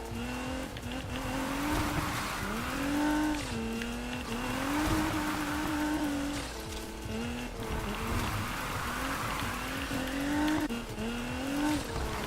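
Car drifting in Need For Speed Heat video game, a revving engine with long sustained tire squeal through corners, loud and continuous with rising and falling pitch.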